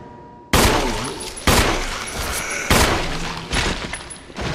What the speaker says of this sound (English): Let me shoot it 2 more times.